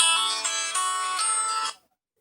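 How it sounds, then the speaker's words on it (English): A mobile phone rings with a loud, bright electronic tone that holds steady for under two seconds, then cuts off into silence. "That's my phone."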